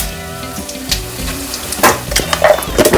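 Cumin seeds hit hot oil for a colocasia root curry, crackling and sizzling steadily with sharp pops that grow denser and louder toward the end.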